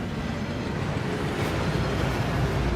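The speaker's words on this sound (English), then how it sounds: "That waterfall washes away all enchantments." Steady rushing water from a waterfall pouring over a vault cart deep in the Gringotts vaults in Hogwarts Legacy, a dense continuous roar with no break and no voices.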